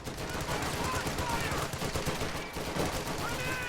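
Dense gunfire rattles without a break in a real-time strategy game battle, bursts of machine-gun fire layered over scattered shots and explosions at close, loud level.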